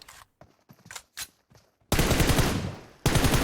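Rapid automatic gunfire in a hide-and-seek style video game, two loud sustained bursts following softer scattered in-game sounds, close and dominant with no talk over it.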